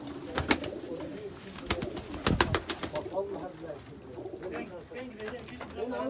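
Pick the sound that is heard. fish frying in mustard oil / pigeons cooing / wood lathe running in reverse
pigeons cooing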